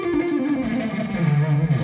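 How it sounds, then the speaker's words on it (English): On electric guitar, a fast pentatonic shred run is played with strict alternate picking, a quick stream of even, distinct notes sliding downward over about two seconds. "Now you could shred using pure alternate picking on this scale like this."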